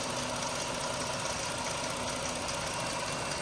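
A 3.6-liter V6 in a 2017 Chrysler Pacifica Touring L minivan with about 40,000 miles idles under the open hood, a steady, smooth low rumble with a faint hiss, continuous and close.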